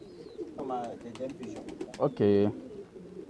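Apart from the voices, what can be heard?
pedigree pigeons cooing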